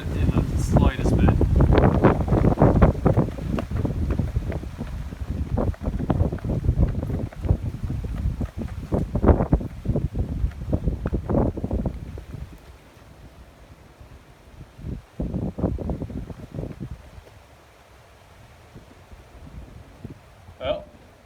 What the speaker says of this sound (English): Somebody in Port St. Lucie definitely got some 60-mile-per-hour wind gusts.